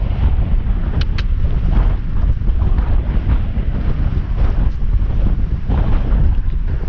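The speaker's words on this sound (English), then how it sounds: "if it wasn't for the wind, today would be gorgeous" Strong high wind sweeps across open Dartmoor moorland, a loud, continuous roar buffeting the microphone with gusty swells and no pauses throughout.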